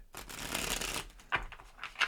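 A golden tarot deck is shuffled: a quick, close riffle of cards lasts about a second, followed by a couple of soft taps and flicks as the cards settle, quiet and without talk.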